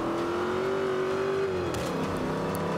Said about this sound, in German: ein bisschen leicht Gas geben,